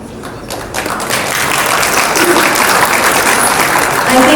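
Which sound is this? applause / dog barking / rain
applause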